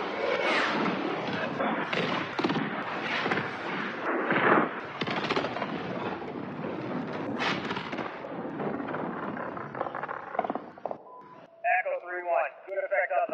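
An airstrike in the video game Call of Duty Modern Warfare unleashes dense gunfire and booming explosions under radio chatter, fading out near the end into clipped, filtered voice transmissions.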